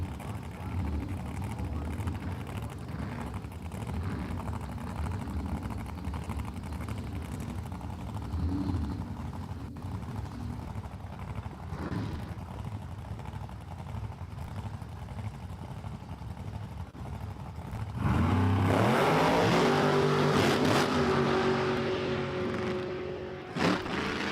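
Drag racing cars, a nitrous 632 Chevy and a supercharged blower car, launch side by side down the strip at Empire Dragway; a distant steady rumble swells into a loud, close, sustained roar with rising engine tones.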